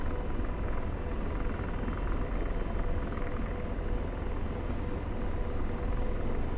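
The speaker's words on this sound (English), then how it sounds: "The Apache is a really heavy helicopter. It is an armored attack helicopter" A heavy Apache armored attack helicopter flown in a stunt simulator, a steady droning engine and rotor rumble that holds an even level throughout, with no talking.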